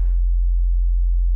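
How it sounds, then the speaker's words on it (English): A steady low sine tone from an Ableton Operator synthesizer hums continuously and evenly throughout, with a brief faint burst of texture at the very start. "I just have an instance of operator here, which has a low sine wave"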